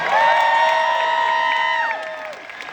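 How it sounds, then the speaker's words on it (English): An audience at a motivational speaking event whoops and cheers loudly in sustained, tonal shouts, with some clapping mixed in, before the cheering tapers off. "Let's give Daniel a tremendous round of applause."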